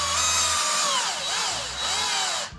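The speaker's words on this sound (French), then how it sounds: "n'allez pas la perceuse visseuse comme je suis en train de le faire" Cordless drill driver driving screws into a Traxxas Wide Maxx RC car, a loud, close whine that rises and falls in pitch as the motor loads and slows, ending abruptly.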